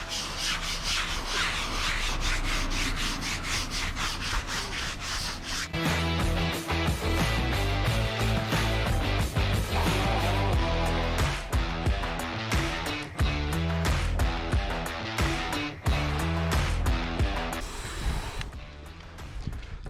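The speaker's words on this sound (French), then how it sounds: "je prends la petite brosse." A small brush scrubs the fabric soft top of an Audi A5 convertible, giving fast, rhythmic rubbing strokes up close that change pace midway and then stop briefly near the end.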